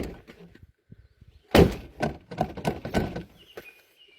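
A repaired door is pushed shut with one loud, abrupt thunk. A rattle and several softer knocks follow it, close by and with no voices.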